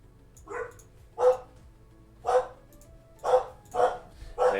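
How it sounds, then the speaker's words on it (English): A pet dog barks repeatedly indoors, six sharp, moderately loud barks spaced about a second apart with quiet hum in between. "There goes my dogs barking away."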